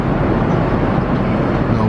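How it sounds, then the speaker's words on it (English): Steady, loud roar of an airplane cabin during flight, a dense unbroken engine and air rush filling the whole stretch, with no speech over it. "Right now, I'm on the plane. We're flying"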